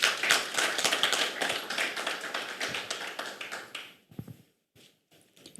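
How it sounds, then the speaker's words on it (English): A symposium audience applauds loudly with dense, sustained clapping for several seconds, then it thins out into a few scattered claps near the end. "Let's give her a round of applause"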